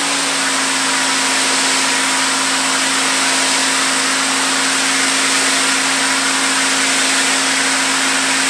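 A Ryobi 1800 psi electric pressure washer sprays through a 15-degree nozzle, a loud, steady motor drone with a constant hissing rush of water, close and unbroken, with one brief spoken word.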